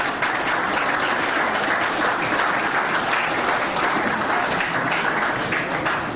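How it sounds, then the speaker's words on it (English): Sustained, dense applause from an audience at a senior athletics awards dinner, honoring the coaching staff; steady and loud throughout without a break. "Let's give them a round of applause."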